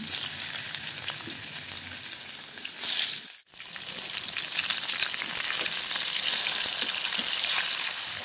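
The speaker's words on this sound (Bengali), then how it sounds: "এরপর আমি কড়াতে তেল আর মাছগুলোকে এবার ভালো করে ভেজে নেব।" Pieces of marinated rohu fish fry in hot oil in a wok, giving off a loud, continuous close-up sizzle. It drops out briefly about midway, then carries on with nobody talking.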